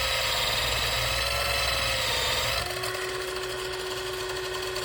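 A power sander grinds resin loudly and steadily, with a harsh whine that shifts pitch and drops slightly partway through.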